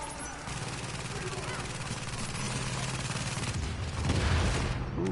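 Rapid automatic gunfire in a Division darkzone fight on PS4, a steady rattling stream of shots at moderate level with a louder burst near the end.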